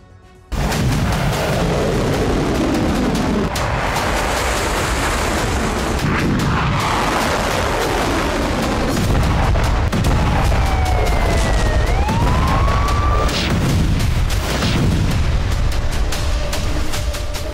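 Continuous heavy rumbling booms of missile strike explosions in Israel, loud and close, with rolling blasts and a wavering siren rising and falling over the barrage, no voices.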